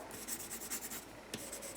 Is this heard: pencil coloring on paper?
yes